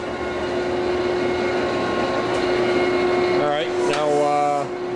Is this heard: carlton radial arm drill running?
yes